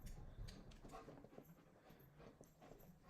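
A dog indoors, sounding through steady background noise: a few muffled barks and panting-like bursts across a few seconds, fairly faint and not very distinct.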